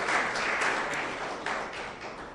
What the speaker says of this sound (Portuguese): eu queria que você aplaudisse o Senhor Jesus, porque Ele é digno